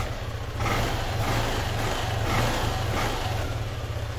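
A Yamaha Aerox scooter engine, just repaired after an error 12 fault, runs steadily at close range, a constant mid-pitched hum with slight swells and no voices.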